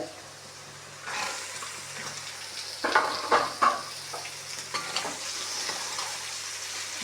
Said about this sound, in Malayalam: നാളികേരം ഫ്രൈ ആയപ്പോൾ നമ്മളതിലേക്ക് വെളുത്തുള്ളിയും ഇഞ്ചി ചതച്ചതും കൂടെ ഇട്ടു